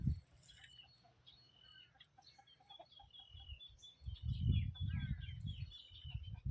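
Chickens and ducks cluck in low bursts near the end, with faint chirps and bird calls scattered throughout, quiet and outdoors among rice-field paddies.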